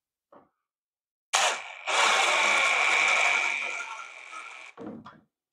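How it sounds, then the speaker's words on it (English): A power drill drives a threaded insert into wood using a cut-off Allen key as the bit, whining loudly for about three seconds after a short start, then stopping, with brief clicks before and after. "put it in my drill, and we're just going to simply screw this into place"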